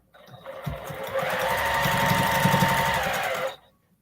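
A sewing machine stitches binding onto repurposed plate mats, running in a steady, close, loud whirring burst of about three seconds before stopping, with no talking.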